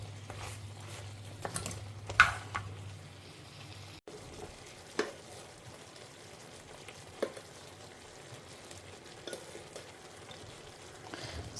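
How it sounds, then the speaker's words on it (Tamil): Ridge gourd sautéing quietly in a pan for sambar, a soft, faint sizzle with scattered light ticks and occasional stirring scrapes, close by with no talk. "லேசாக வதங்க ஆரம்பிச்சிருக்கு."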